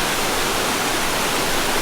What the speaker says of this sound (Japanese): 三の滝に到着しました。